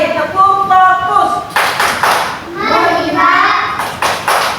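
Children in a classroom do a rhythmic focus clap, beating out patterned claps in short bursts. The claps are loud and close, mixed with the children chanting along.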